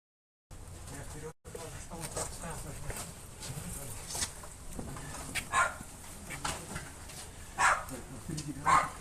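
Dogs bark in short, sharp bursts that grow more frequent toward the end, over a busy, noisy background that includes voices.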